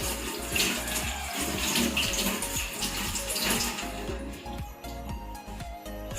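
Water runs steadily from a tap as hands are rinsed clean during a patient-care hygiene procedure, a continuous close splashing flow that fades and thins near the end, with no talking.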